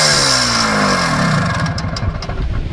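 A motorcycle engine revs loudly and up close at an enduro event, the pitch rising and falling as the throttle is worked, then settling into a rough, rumbling idle.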